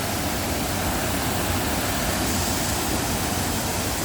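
A small waterfall that powers a rice-pounding water wheel at Phu Hin Rong Kla roars steadily, a close, continuous broadband rush of falling water with no talking.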